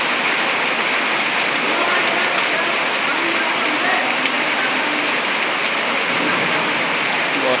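Heavy monsoon rain pours down in a dense, steady hiss that stays loud and unbroken throughout, with no voices over it.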